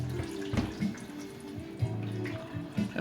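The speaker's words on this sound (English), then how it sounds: "open up the plunger and let that vinegar water out of it" Vinegar water drains out of a Flavia Creation C200 coffee machine during descaling, trickling and dripping steadily with a few louder splashes.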